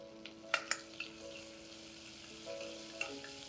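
Cumin seeds fry in butter for pav bhaji, giving a quiet, steady sizzle with a couple of sharp early pops and light metallic clinks from a spoon, without speech.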